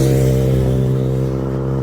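A car passes close by on a quiet road at night, its engine a loud steady hum that eases slightly as it goes, with no voices.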